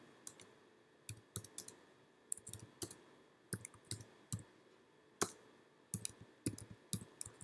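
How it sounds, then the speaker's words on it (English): Typing on a computer keyboard, heard alone as irregular bursts of sharp, close key clicks with brief pauses between runs. "Trust me, I'm typing."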